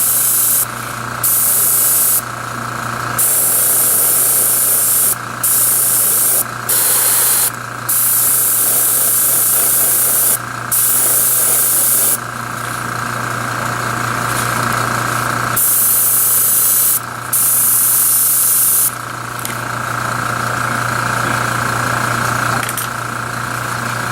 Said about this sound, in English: Being careful here not to let really any significant tip dry happen on the airbrush, because I don't want any splattering to happen at this point.